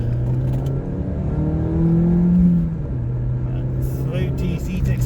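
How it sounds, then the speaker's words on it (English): A Ford Fiesta Zetec engine climbs in pitch as it accelerates, a throaty, steady drone heard from inside, then settling back down. "throaty Zetec sound, and off we go"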